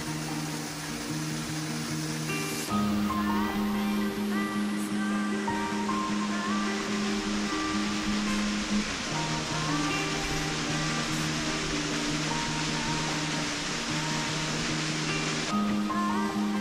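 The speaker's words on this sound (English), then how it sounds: "It is a beautiful waterfall." Darwin Falls in Death Valley rushes as a continuous broad roar of falling water, loud and close, with a steady hum of other tones running through it and no talk.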